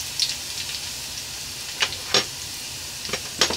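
Garlic sautés in a pan for a chicken-feet dish, giving a steady close sizzle with a few brighter crackling pops scattered through.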